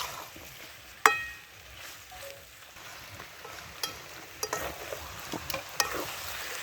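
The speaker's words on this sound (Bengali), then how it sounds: "এই চর্বিটা থেকে এবার তেলটা বেরোবে।" Chicken gizzard fat sizzling in a pan as the oil renders out, a steady close frying hiss with occasional sharp clicks and clinks of a utensil against the pan.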